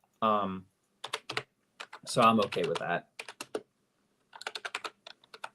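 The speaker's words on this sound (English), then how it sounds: "Sorry, I was just typing something out here." Computer keyboard typing comes in short bursts of clicks between stretches of a man's nearby speech, the keystrokes clustered in rapid runs and fairly soft.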